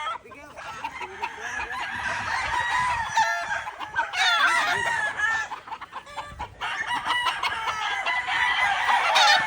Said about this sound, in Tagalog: Ang gaganda, ang dami manok ko.